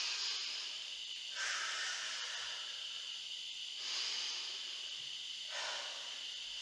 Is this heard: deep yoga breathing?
yes